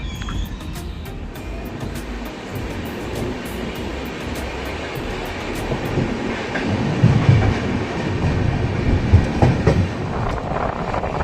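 The Vasco-Yesvantpur Express, train 17310, running between Goa and Bengaluru past Gubbi railway station: a steady loud rumble of wheels and carriages with clickety-clack rail joints, growing heavier and rougher as it goes.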